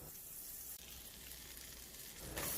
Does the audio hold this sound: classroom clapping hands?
no